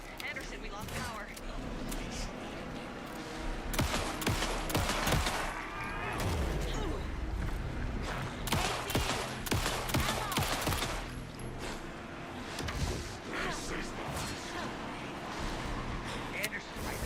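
Gunfire in the video game Alan Wake 2: repeated sharp shots and rapid bursts crack over a busy, loud mix, with voices talking between and under the volleys.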